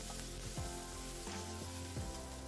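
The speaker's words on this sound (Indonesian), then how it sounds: "Kita tumis sampai harum dan layu." Red chilies, red bird's eye chilies, tomato and bay leaves sauté in a hot pan, a soft continuous sizzle with faint stirring scrapes, heard up close and quietly with no talking.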